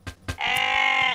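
Sheep bleat in a farming video game as it is sheared: one long, loud, steady bleat of about a second, preceded by two short knocks.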